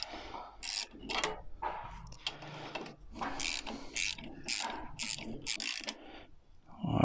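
A ratchet wrench tightens the bolts on GIVI crash bars fitted to a Royal Enfield Himalayan motorcycle, giving repeated close, crisp clicking bursts in quick runs with short pauses between them and no talking.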